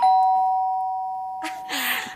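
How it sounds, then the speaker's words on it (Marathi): A single electronic doorbell chime rings clearly indoors and slowly fades out, then voices begin speaking over its tail. "ती बेल तुटेल आता."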